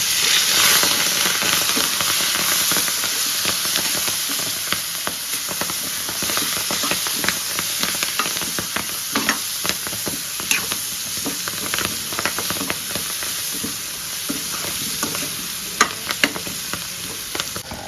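Fenugreek leaves and potatoes for a curry sizzle and fry in a pan while being stirred, a steady hiss broken by scraping clinks of the spoon, close and continuous.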